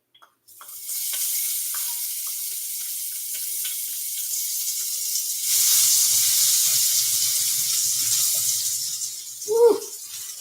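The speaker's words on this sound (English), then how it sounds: "now that our skillet is nice and hot, I'm going to turn it down a little bit. And we're going to toast our garlic first" Garlic toasting in a hot skillet, a steady soft sizzle that swells louder midway as more hits the pan, with a low rumble beneath and a short voiced exclamation near the end.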